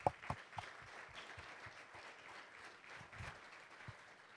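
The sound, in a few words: audience applause at a luncheon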